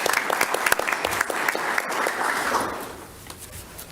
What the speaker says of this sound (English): we'll give a round of applause for Rose as well.